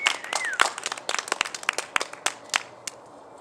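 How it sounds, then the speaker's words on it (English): Scattered applause from a small live audience at a performance event, a loose run of distinct individual claps that thins out toward the end, with a brief voice at the start. "Round of applause."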